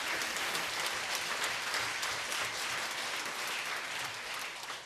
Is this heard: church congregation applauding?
yes